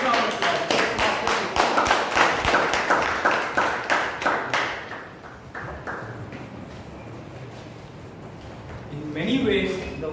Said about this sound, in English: Let's welcome a big round of applause